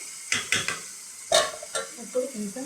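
A spoon stirs tomato curry in a pan, making a few distinct scraping strokes over a soft, steady sizzle, heard up close with no talk.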